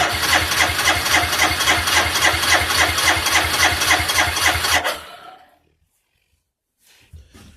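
An engine with its choke fully on, just after carburetor work, runs at a steady, throbbing idle with rapid even firing pulses, loud and close, then cuts off abruptly into near silence.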